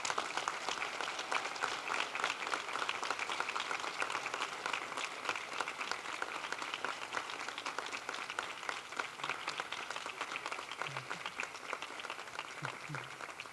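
A high school graduation audience, standing, applauds for a long stretch, a dense continuous patter of many hands at moderate, fairly distant level without voices over it.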